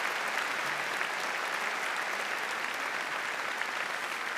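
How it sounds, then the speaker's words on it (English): Steady, dense applause from a meeting audience, continuous and even throughout with no pauses, at a moderate distance, filling the whole stretch with no talk over it. "Please, a round of applause."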